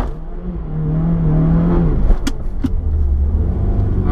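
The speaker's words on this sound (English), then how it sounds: "All right, pretty good burnout." A car doing a burnout at a drag race ahead of an RSX Type-S versus Subaru WRX run, with a loud steady engine roar and rumble holding throughout, a rising revving tone early on and a couple of sharp bursts midway.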